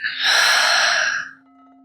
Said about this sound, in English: Taking another deep inhale in, filling up your belly, chest, feeling the breath reach your chin as you exhale through the mouth